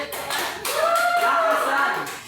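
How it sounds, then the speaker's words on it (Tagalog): An audience claps for the first group, a short burst of scattered hand claps with a sung or spoken tone running over the middle. "Bigyan natin sila ng masigabong palakpakan."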